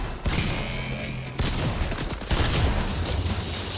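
Rapid shotgun blasts from the Double Trouble twin shotguns in Fortnite, fired back to back with no pause, loud and dense with game effects layered throughout.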